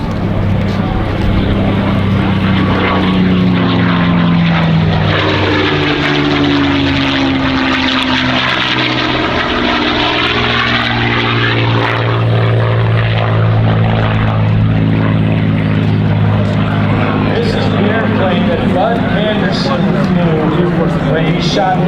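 A loud WWII propeller fighter plane roars overhead at an airshow, its engine drone sweeping down in pitch as it passes and then fades, with someone talking over it.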